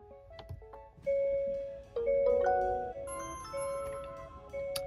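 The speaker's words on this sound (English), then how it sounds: "you just heard the camera make its startup sound, which means it now has power" A dashcam powering on inside a Hyundai Ioniq 5, playing a short tonal startup melody of several clear electronic notes, close and distinct in a quiet cabin.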